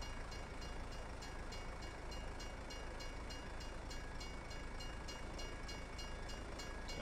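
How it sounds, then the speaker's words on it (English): Train passing in Farming Simulator 22, a steady loud rumble of rolling railcars with a rhythmic clatter running throughout, alone without talk. "We get to see the train again."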